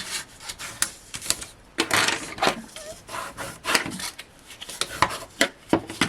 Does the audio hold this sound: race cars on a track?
no